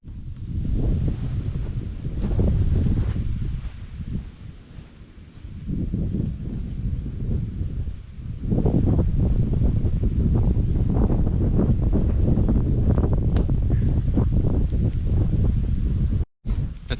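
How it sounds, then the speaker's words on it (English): Strong wind buffets the microphone on a golf course, roaring in loud, sustained gusts with brief lulls and a short dropout near the end. "Super windy, as you can tell."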